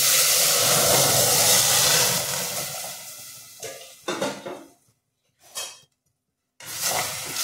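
Mustard seeds crackle in hot oil for Maharashtrian varan dal. A loud, steady sizzle fades after a few seconds into short, choppy bursts of hissing separated by near-silence.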